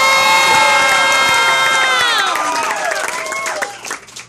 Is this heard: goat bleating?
no